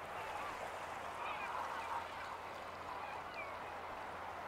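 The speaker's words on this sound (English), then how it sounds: "The birds are all going crazy." Birds, likely geese or similar fowl, honk and call excitedly in a noisy chorus at a middle distance, several overlapping cries rising over a steady outdoor hiss as an eagle flies.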